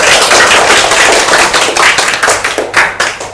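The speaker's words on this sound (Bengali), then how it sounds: "ওর জন্য একটা জোরে তালি।" A classroom gives a student a loud round of applause, a dense burst of many hands clapping close by that carries on for a few seconds, alone without talk.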